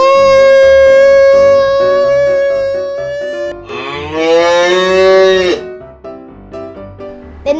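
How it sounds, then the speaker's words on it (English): A cow moos loudly and close in a long, drawn-out call that rises in strength toward the end, heard alone with no talking. "and then the sound is moo."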